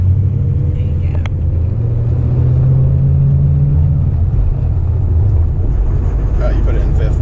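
A manual Ford Mustang Bullitt GT revs up under more throttle, a loud, close, deep engine rumble whose pitch climbs steadily before levelling off into a steady drone.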